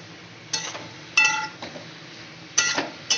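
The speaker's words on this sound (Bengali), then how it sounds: "লঙ্কার গুঁড়ো, জিরের গুঁড়ো আর ধনের গুঁড়ো, সেটাকে দিয়ে এবার ভালো করে কষাবো" Chili, cumin and coriander powder are stirred in a pan, heard as four separate metallic scrapes and clinks of a utensil against the pan, close and clear with quiet gaps between.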